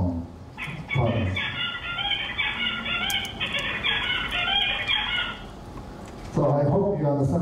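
A recorded songbird sings a rapid series of high warbling phrases, bright and repetitive, with a louder burst of song returning near the end.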